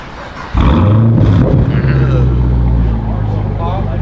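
A loud Mopar car engine fires up abruptly and roars at high volume, then settles into a slightly quieter, rumbling idle while people talk nearby.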